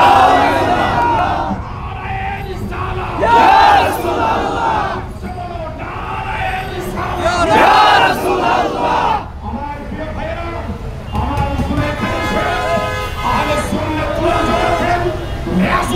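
A crowd at a rally roars a religious slogan in call-and-response bursts, loud and massed, with a lead voice shouting between the group chants.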